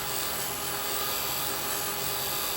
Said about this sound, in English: Little shear scrape there.